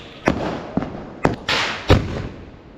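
Diwali sky shot fireworks going off, about five sharp cracking bursts in quick succession, loud and close, each followed by a brief crackle, no voices.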